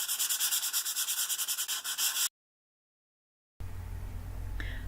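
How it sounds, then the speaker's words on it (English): Light hand sanding of dry gesso on dark paper, close-up steady back-and-forth rasping strokes in a quick regular rhythm, then a break of silence before fainter rubbing resumes. "now that the gesso is dry, I'm just going to give it a light sanding."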